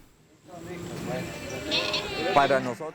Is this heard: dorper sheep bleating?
yes